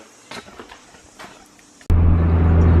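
A Nissan S15 driving home after subframe bush and exhaust work: a quiet rustle first, then the engine cuts in abruptly with a loud, steady low drone and sustained hum.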